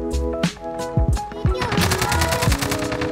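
An AK-47 with a Trophy Mount fires in Modern Warfare, first in a few separate loud shots and then in a rapid close automatic burst of sharp cracks.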